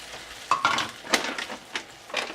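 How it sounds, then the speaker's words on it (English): Lamb broth hitting a hot pan in a plantain dish, crackling and sizzling in irregular bursts with a few light utensil clinks against the pan, close by and without talking. "putting in 1 cup of lamb broth"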